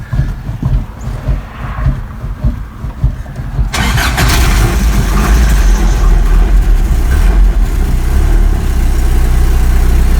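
A 1985 Toyota pickup, running on new gas after a fuel filter change, cranks over and catches, then settles into a loud, steady close-up idle that drones on without pause.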